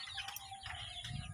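One-month-old chicks in a small outdoor range give a few short, high chirps in quick succession over a low steady background hum.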